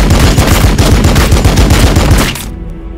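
Rapid machine-gun fire rattles loud and close in the video game Warhammer 40,000: Battlesector, a steady stream of shots for about two and a half seconds before cutting off abruptly.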